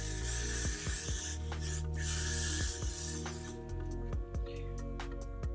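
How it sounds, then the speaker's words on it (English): Got2b Glued hair spray is sprayed in a couple of close hissing bursts over steady background music with a rhythmic pulse. "I'm going to take some Gots to Be Glued spray and just"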